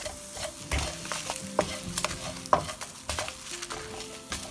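Dry coconut roasts in a pan for Goan crab xec xec, a soft sizzle under repeated spoon scrapes and taps as it is stirred, close and fairly quiet.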